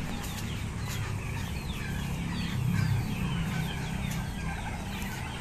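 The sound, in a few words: Brahma chickens clucking at feeding time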